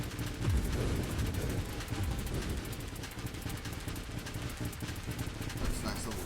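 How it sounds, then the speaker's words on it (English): A swarm of homing missiles firing in the space shooter Nova Drift, a dense continuous stream of rapid crackling shots and blasts layered over game music, with a voice talking throughout. "That's a nice little vortex of missiles going on there"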